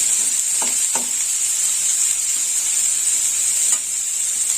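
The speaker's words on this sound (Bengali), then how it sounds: "কচি আমড়া তো, আমড়াটা একটু কষে নেব" Young hog plums, cut into long slices, sizzle steadily in a hot pan, with a few soft stirring scrapes near the start and again toward the end over a continuous frying hiss.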